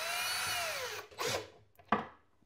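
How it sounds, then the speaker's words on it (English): A power drill drives screws into an IKEA Mosslanda picture shelf. The motor whirs for about a second, then come a couple of short bursts and clicks, close and fairly quiet, with no voices. "Just place the screws first in the holes and then screw them"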